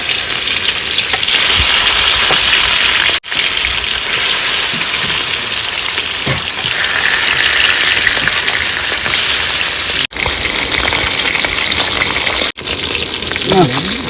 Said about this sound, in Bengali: এবার দিয়ে দেবো মাছ তো একটু ফাটিয়ে নেব